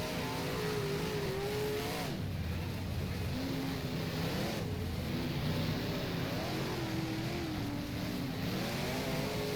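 A big block modified race car in the rFactor racing game launches off the line at Weedsport, its engine roaring loud and steady with rising and falling revs and gear changes, other cars droning nearby.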